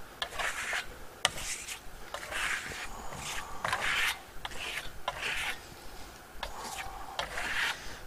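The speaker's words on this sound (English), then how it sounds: "I'm going to take some, put it on my trowel, and I'm going to just apply it like a wax." Trowel scraping and rubbing glow-in-the-dark venetian plaster onto a wall, with repeated close rasping strokes in an uneven rhythm, each lasting about a second, plus occasional light clicks of the blade.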